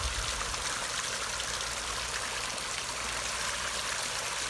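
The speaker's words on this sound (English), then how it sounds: "So that back tank now is bin is draining into here very quickly." Water drains quickly from a back tank into another tank, a continuous, fairly loud rushing splash with no break or change in level throughout.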